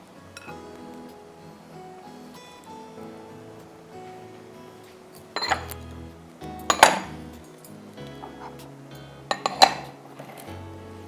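Ingredients are mixed in a bowl, with quiet background clatter giving way to a few sharp metallic clinks and knocks of utensils against the dish, close and loud in short bursts.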